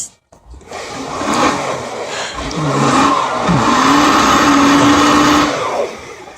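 An old Jeep stuck in snow, its engine revving hard and steady with a rising, straining whine that holds for several seconds at close range, no talk over it.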